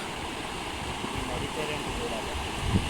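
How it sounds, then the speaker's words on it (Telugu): Soft, continuous flowing water from a stream in Meghalaya near the Bangladesh border, heard as a faint, even wash with a small bump near the end. "నీరు ఇటు లెఫ్ట్ సైడ్కి పారుతున్నాయి"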